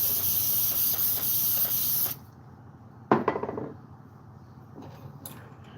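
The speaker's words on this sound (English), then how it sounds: "spray some carburetor cleaner on it." Carburetor cleaner sprays from an aerosol can onto a rag in a steady loud hiss for about two seconds, then cuts off, followed by a short burst of rag and handling noises during chainsaw restoration work.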